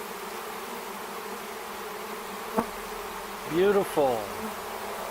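A honey bee swarm hums in a continuous, steady drone during a swarm catch on a June homestead, with a brief voice and a sharp tap breaking through midway.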